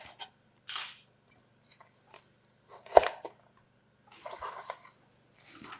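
A knife slices through a broccoli crown on a cutting board, giving one sharp crunching cut in the middle, with a few softer knife and board sounds spread across an otherwise quiet scene.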